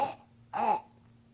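A man imitates hacking coughs while pretending to cough a swallowed fish up out of his throat during an onstage magic routine: a short rough burst, a pause, then a louder, longer throaty cough.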